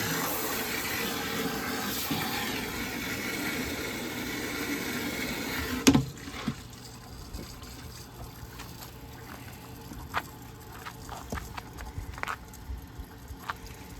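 Water pours steadily into a used fish tank, a continuous rushing that cuts off abruptly midway, followed by faint drips and trickles.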